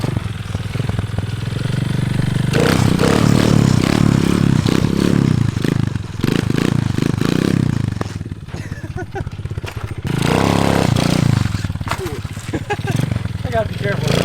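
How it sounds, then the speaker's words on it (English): A motorcycle ridden on a flat tire, engine revving hard in loud surges for a wheelie, easing off and clattering, then revving up again, close by and rough. "flat tire wheelies. Let's see if I still got it."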